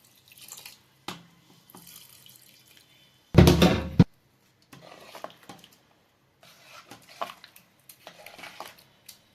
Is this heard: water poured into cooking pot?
yes